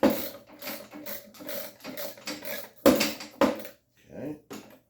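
A ratchet loosening screws on a motorcycle windshield, with quick bursts of close clicking that stop and start repeatedly, while a voice talks intermittently.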